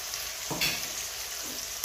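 Tomatoes frying with salt in a pan, giving a soft continuous sizzle with a couple of brief stirring scrapes, close and moderately quiet.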